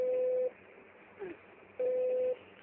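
Two long, steady electronic telephone tones sound during a phone call, separated by a short pause with a faint murmur in the gap. Both are clear, close and identical.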